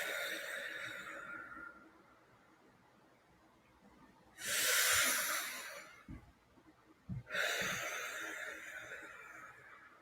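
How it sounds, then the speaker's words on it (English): Deep breaths taken during a guided movement and breathing exercise, two long, loud breathy whooshes in a quiet room, separated by a pause with faint thumps. "as I take these 3 deep breaths"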